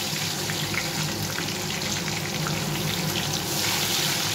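Crushed garlic dropped into hot cooking oil for mutton kosha, a soft, continuous frying sizzle with a faint bubbling hiss that grows slightly louder near the end, with no talk.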